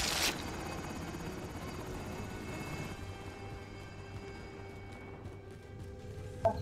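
Helicopter rotor drone from a military video game, a steady whirring wash holding at even loudness throughout, with a brief sharp click near the start and another near the end.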